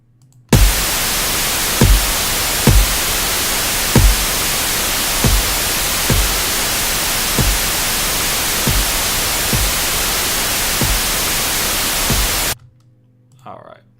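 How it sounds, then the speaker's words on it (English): Steady broadband pink noise hiss used for mix levelling runs for about twelve seconds, punctuated by a regular thumping kick drum, then cuts off abruptly into near silence. "we're going to mix the kick in the same way with the white noise, or the pink noise"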